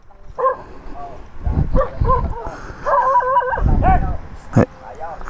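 A dog barks and yips several times in short bursts, fairly close, with some whining between barks and background noise.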